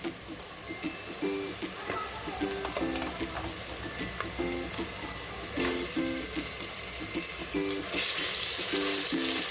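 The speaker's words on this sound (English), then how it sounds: "We fry it for about 2 minutes" Onions with ginger garlic paste frying in a pan for mutton curry, a steady crackling sizzle with scattered pops and spatters, building slightly louder toward the end, close by.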